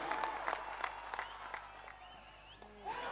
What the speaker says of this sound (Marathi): टाळ्यांचा गजर होऊ दे या चेंडूसाठी.